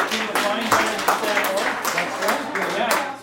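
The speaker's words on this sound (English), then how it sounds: "give a nice big round of applause for Dan Walsh here" An audience at a reunion gathering claps for a man, moderate applause running under a voice speaking throughout.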